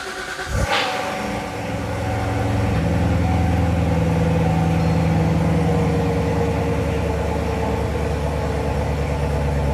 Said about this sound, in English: Alright, let's give it a cold start.